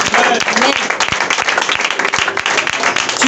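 Church congregation at a Sunday service applauding and cheering the Lord, dense rapid clapping from many hands, loud and close, with voices shouting over it throughout.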